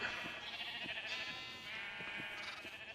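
Sheep in the video game Minecraft bleat in a few wavering, nasal calls, moderately close and alone with no talking.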